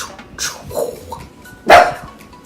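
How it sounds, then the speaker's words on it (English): A dog gives a few short, sharp barks and yips, close by, with one louder bark standing out near the end. "my dog is distracting me because he's gonna start barking like any second"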